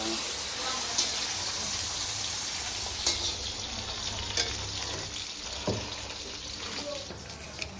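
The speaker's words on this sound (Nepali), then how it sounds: "फ्रेंच फ्राई रेडी हुँदैछ" French fries frying in hot oil during home cooking, a steady crackling sizzle throughout with occasional sharper pops, close and moderately loud, with faint voices in the background.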